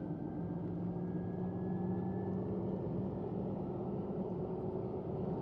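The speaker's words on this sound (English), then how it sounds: "clearly there's going to be that whining that you have going down the highway" Steady road noise from a 4th-generation Toyota 4Runner on BFG KM3 tires and new wheels cruising the highway, a constant low rumble with a faint thin whine riding above it throughout, no voices.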